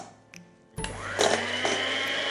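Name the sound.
hand mixer whipping cream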